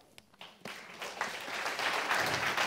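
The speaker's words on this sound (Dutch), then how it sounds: "ik wil een hartelijk applaus horen voor de eerste schrijver van deze avond" Audience applause at a Literatuur Late Night literary evening greets the first writer, starting with a few scattered claps and swelling into steady clapping from the crowd, with no talk over it.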